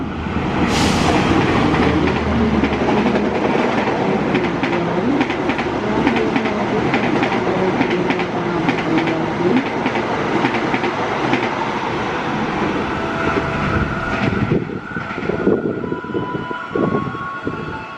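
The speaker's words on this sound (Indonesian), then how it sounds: "Selanjutnya kereta api Fajar Utama YK 110B yang pada hari ini tidak membawa kereta wisata priority." Fajar Utama YK 110B passenger train rolling past a station, a loud steady rumble with rhythmic wheel clatter over the rails lasting throughout, easing slightly near the end.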